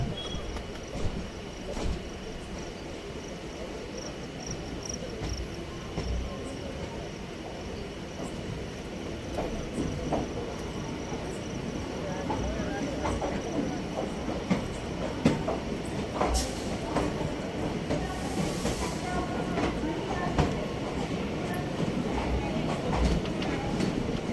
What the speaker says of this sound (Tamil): திருநெல்வேலி ரயில்வே ஸ்டேஷன் வந்துச்சுங்க